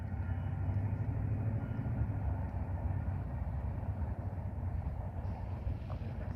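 A train crosses a noisy, unrepaired bridge below, giving a continuous low rumble and droning rattle that holds steady throughout at moderate distance.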